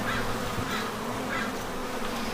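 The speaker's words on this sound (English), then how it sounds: "Do you hear that sound? That's the sound of some happy bees." Honey bees buzzing around a brightly painted wooden hive box, a continuous close, even hum of many wings with no voices.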